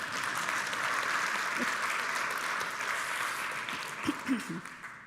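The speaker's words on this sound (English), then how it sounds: "I didn't let you clap for Manish. I would like you to do that." A congregation at a Unitarian Universalist worship service claps in a sustained, even wash of applause, moderately distant, with a voice briefly talking near the end.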